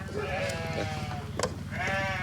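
Sheep bleat on a farm in a few overlapping wavering calls, close and clear, one after another with barely a pause and no voices.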